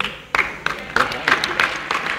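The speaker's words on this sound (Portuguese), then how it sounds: "Uma salva de palmas para o Eric" Scattered hand claps ring out for Eric in a small group, sharp separate strikes about every third of a second, close and fairly loud, with voices chattering underneath.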